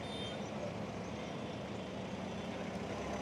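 A truck or similar heavy vehicle passes on a mountain ghat road, heard as a steady, fairly faint low engine rumble with road noise throughout and no voices.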